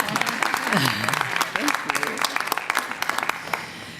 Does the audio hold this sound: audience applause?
yes